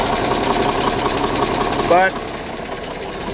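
A 1985 GMC truck engine idles with a steady, close mechanical drone and faint rhythmic ticking, a brief squeal near the middle, and a man's short spoken word over it.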